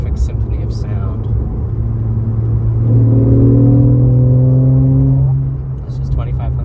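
2016 Porsche 911 engine idling with a low rumble, then revving up in a smooth rising growl for a couple of seconds before easing back down, heard from inside the car.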